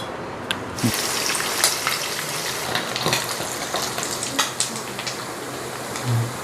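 Steady, crackling sizzle of dried anchovies frying in hot oil, with occasional pops and clinks of a utensil stirring in the pan, close and continuous.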